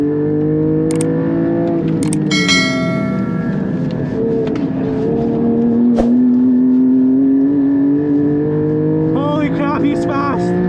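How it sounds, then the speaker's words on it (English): A modified Porsche 718 GT4 races a GT4 RS on a track, its engine droning loud and close as it climbs and falls through shifts, with brief clicks, tyre noise and a voice speaking over it. "why don't we end this video with just another clip of a GT4 battling a GT4 RS"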